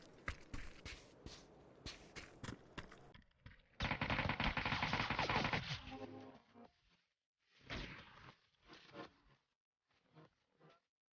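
Bursts of rapid video game gunfire in PUBG: Battlegrounds erupt, one long sustained volley in the middle, followed by a few shorter shots fading out.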